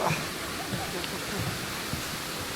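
A waterfall in Bali roars as a steady, broad wash of falling water, continuous and close with no breaks across the few seconds.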